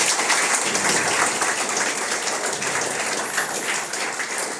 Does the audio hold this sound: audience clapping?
yes